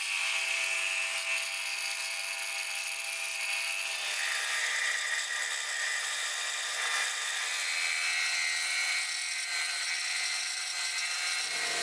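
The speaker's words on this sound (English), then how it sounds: "My bandsaw just got a new blade" Bandsaw fitted with a new blade cutting through wood, a steady, loud high-pitched whine that runs continuously and shifts pitch slightly partway through the cut, with no talking.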